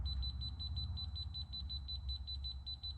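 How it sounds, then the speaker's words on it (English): A Kaiweets KM601 smart meter's voltage tester gives a high, rapid electronic beeping near a live outlet, pulsing steadily for several seconds over a low background rumble. "it starts beeping to let me know that that is live over there"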